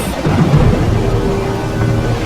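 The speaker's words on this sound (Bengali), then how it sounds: "বাইরে তুমুল ঝড় বৃষ্টি হচ্ছে" Heavy rain pours down loudly while deep thunder rumbles through during a Kalbaishakhi (nor'wester) storm at night, a continuous stormy roar with no voices.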